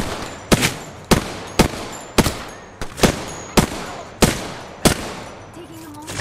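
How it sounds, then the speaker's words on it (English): Gunfire in an Apex Legends match: about ten sharp, loud shots at a fairly even, roughly half-second rhythm, each with a short ringing decay, up close and without talk. "Shots fired, and they're hitting me."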